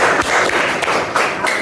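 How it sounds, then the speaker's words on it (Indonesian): Applause breaks out for Veronica at a school session on positive classroom culture, a steady dense patter of many hands clapping close by, with a few sharper taps and thuds mixed in across the short burst. "Tepuk tangan buat Veronica"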